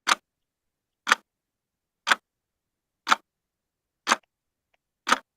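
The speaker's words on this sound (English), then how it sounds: "this is the sound of a clock when the hands move" A clock ticks as its hands move: six single, sharp ticks spaced evenly about one second apart, close and clear, with silence between them.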